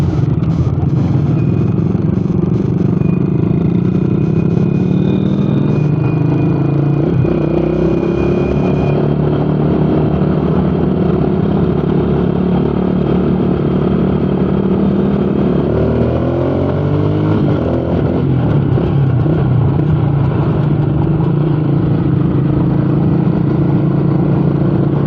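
A Motoposh 150 Raider-style motorcycle engine runs steadily and loud while riding on a road at night, its drone rising and falling with throttle changes and a clear shift around the middle, with wind noise and no talk.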